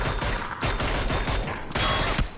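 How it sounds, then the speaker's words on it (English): Rapid automatic gunfire from PUBG esports match play, dense loud bursts of shots repeating throughout without pause, several volleys overlapping across the clip. "Light's going to take some shots on towards Bin Lag"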